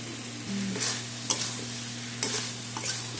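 Fried potatoes being stirred through a cooked spice masala in a pan, a steady sizzle with a few sharp scrapes of the spoon against the metal, close and fairly loud with no talking.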